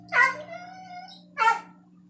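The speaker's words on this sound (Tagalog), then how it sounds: "Dinig na rin yung ano ha, yung kahol ng aso namin ha" A dog barks twice, well spaced, at moderate distance over a low steady hum, each bark short and sharp with a fading tail.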